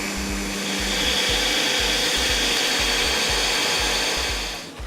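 A kitchen blender whirs steadily as it purées arugula and herbs with oil into pesto, its motor droning continuously at close range with a rhythmic pulsing churn, slowing toward the end.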